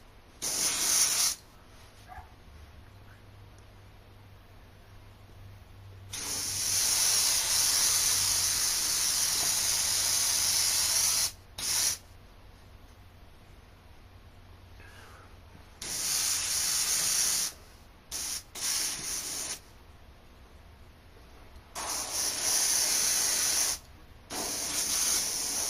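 An airbrush sprays paint in several bursts of hissing spray, one long run of about five seconds and a few shorter ones, each starting and stopping abruptly, with quieter gaps between them and no talking.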